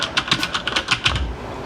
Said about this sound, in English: I just love typing and how loud it really gets.